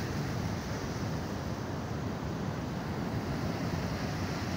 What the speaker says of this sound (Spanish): Miren cómo está embravecido el mar.